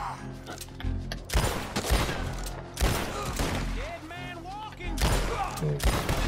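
Several heavy gunshots from Red Dead Redemption 2 boom out in quick bursts, close and loud, over a steady bed of game sound and background music.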